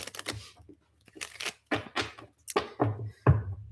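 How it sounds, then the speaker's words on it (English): Tarot cards are shuffled by hand up close, making a series of brisk papery riffles and snaps. The short bursts come in an uneven rhythm separated by brief pauses. "One more shuffle."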